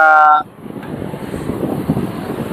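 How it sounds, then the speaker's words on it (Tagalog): After a short tone cuts off, strong wind blows steadily against the microphone at the Dolomite Sand Beach in Manila Bay, a loud, rough rumble that keeps going with no talking over it. "hangin, malakas na hangin."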